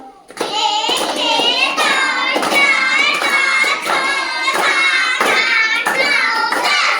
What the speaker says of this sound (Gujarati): ચલો દસ લાડુ તાળી પાડ દો